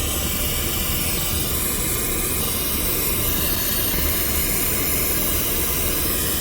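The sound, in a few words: pink noise test signal for car audio tuning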